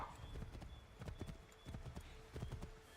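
A horse in the Assassin's Creed 3 video game trots along with a quick, regular clip-clop of hooves. The hoofbeats are close and steady, with faint game ambience behind them.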